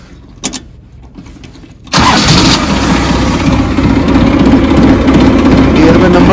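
An old New Holland 3032 tractor engine cranks and catches at about two seconds, then settles into a loud, steady diesel rumble that continues to the end. Brief clicks come before the start.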